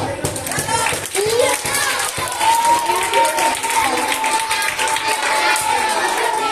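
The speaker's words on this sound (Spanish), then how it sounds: "¡Un aplauso!" School cultural week audience of children clapping and cheering after a magic trick, lively mixed applause with excited kids' voices and a sustained whistle-like tone running through.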